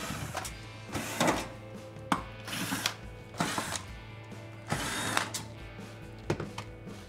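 A power screwdriver or drill backs out Phillips screws from a Kenmore refrigerator's compressor compartment cover, in short whirring and ratcheting bursts separated by pauses, fairly quiet and close with no talking.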